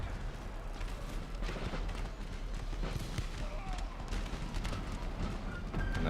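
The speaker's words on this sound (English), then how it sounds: "we're easily opening fire here" Musket volleys and artillery fire in an Empire: Total War battle, a dense continuous rumble of distant shots and booms running steadily throughout, with a voice talking over it.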